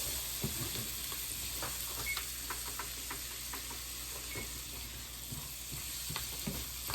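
Mushrooms seasoned with salt and pepper frying in a pan for a mushroom risotto, a continuous close sizzle and hiss broken by frequent stirring scrapes and taps, no voices.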